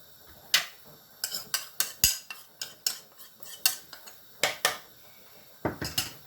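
A whisk clinks and taps against a bowl, beating six eggs, two whole and four yolks, for a carbonara cream; the strikes come in quick, irregular bursts with short pauses and sound close and crisp.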